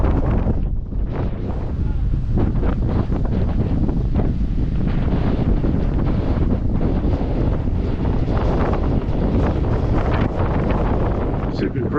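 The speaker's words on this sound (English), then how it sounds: "This is stronger than the forecast, no. This is, yeah, enormous waves crashing." Strong 50-knot wind at sea near Stintino with waves crashing, a constant loud roar and heavy microphone buffeting, with a voice speaking under the noise.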